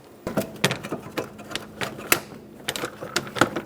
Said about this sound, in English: Push until you hear a click.